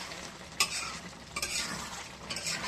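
Mutton fries in oil with chunks of potato nearby, a steady soft sizzle broken by a few sharper scraping stirs of a spoon through the pan, fairly faint and close with no talking.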